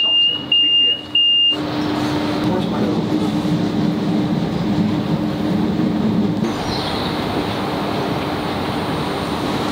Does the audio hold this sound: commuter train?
yes